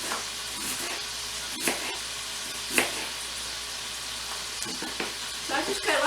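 Onions hit a hot pan for a smoked sausage, zucchini and macaroni casserole, giving a steady hissing sizzle with a few louder bursts and utensil knocks nearby.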